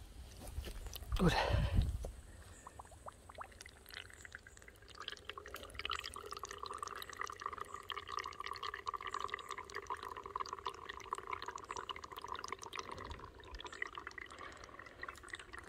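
Water drips steadily through an outdoor water filter at a camp, a soft continuous trickle with faint irregular drops and a brief louder splash near the start.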